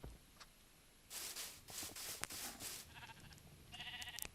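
Minecraft sheep bleating in a video game, several short synthetic bleats spread across the clip, moderately loud over a faint background, with no talking.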